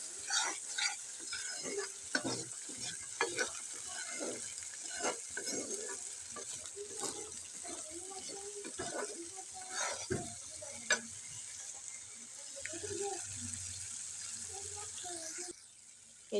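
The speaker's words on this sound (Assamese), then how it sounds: "এই তেল বিৰিঙি আহিছে" Potatoes fry in hot oil with a continuous close sizzle, interrupted by frequent scraping stirs and clinks of a utensil against the pan, and a brief rush of water near the end.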